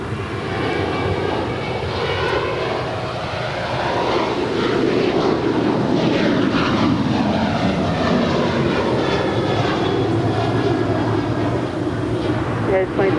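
A United Airlines jet takes off at LAX, its engine roar loud and sustained, swelling slightly midway and holding steady, with radio chatter and talk faintly underneath.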